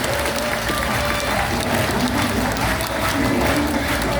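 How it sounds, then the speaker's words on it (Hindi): Seminar audience clapping in a hall, a loud, dense, continuous wash of hands throughout with a faint murmur of voices mixed in. "आप तो ताली बजाना है"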